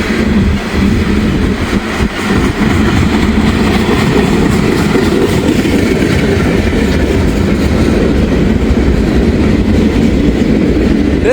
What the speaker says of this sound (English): This will probably be the final train for this episode.